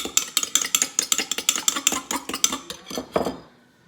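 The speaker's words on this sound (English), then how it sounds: "I'll give them a whisk up." Eggs for scrambled eggs whisked in a bowl: about twenty quick, close, rhythmic clinks of the whisk against the dish that slow and trail off near the end.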